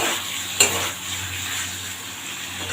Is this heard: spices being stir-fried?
yes